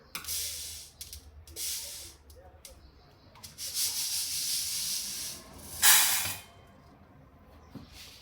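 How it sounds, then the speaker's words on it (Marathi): Dry toor dal lentils are sorted by hand, a close rustling and rubbing of grains with bursts of sliding hiss and a few pauses, no talking. "आत्ता तूर डाळ आहे ती निवडून घेते"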